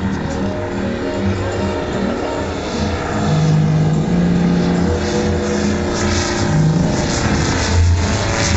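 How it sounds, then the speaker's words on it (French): Model PT17 biplane with a 7-cylinder 800 cc gas radial engine droning steadily in flight, a continuous loud hum that swells slightly in the second half, with no talk over it. "accrochez-vous à la 7 cylindres de 800 existants, en tout cas en moteur à gaz."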